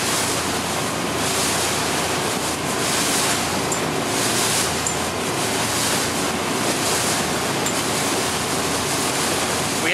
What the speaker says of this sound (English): We have some wind today